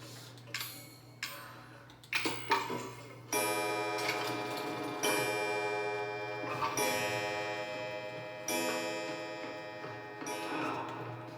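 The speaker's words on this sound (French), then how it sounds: "Et l'horloge, c'est celle-là." An old clock ticks steadily in the horror video game Resident Evil 7, each tick ringing out with a chiming, resonant tone over a low background hum, with no talking.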